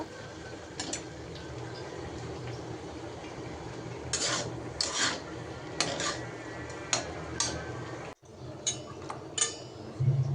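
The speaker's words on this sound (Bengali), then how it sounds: "ধনিয়া পাতা দিয়ে দিলাম এখন কিছুক্ষণ ভেজে নিব" Sliced cabbage and coriander leaves fry in a pan for a Bengali cabbage bhaji, giving a steady close sizzle and hiss broken by irregular clinks and scrapes of a utensil stirring against the pan.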